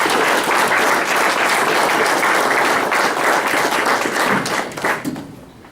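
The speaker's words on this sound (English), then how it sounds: "let's give just the signing class a warm round of applause" Sustained, dense applause fills a room at a college National Letter of Intent Day for a signing class, loud and steady for several seconds before tapering off at the end.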